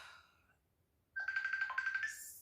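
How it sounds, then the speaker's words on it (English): A phone ringtone starts up with a quick run of bright, repeating electronic tones lasting about a second, clear and close in an otherwise quiet room. "sorry, phone call."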